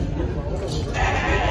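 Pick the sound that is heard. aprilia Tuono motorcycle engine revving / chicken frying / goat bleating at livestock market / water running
goat bleating at livestock market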